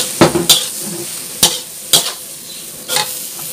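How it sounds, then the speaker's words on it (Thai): Garlic stalks stir-fried in a hot pan: a steady sizzle with four or five sharp scraping strokes of a spatula at irregular intervals, close and fairly loud, no voices. "พี่ปูจะใส่ต้นกระเทียมลงไปเลย"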